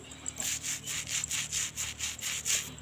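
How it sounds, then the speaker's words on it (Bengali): A silver anklet is scrubbed clean by hand with a steady back-and-forth rubbing, about ten close, evenly spaced strokes that sound harsh and scratchy, with no talk over them. "আমি এটাকে কত সুন্দরভাবে ঘষে পরিষ্কার করে নিচ্ছি"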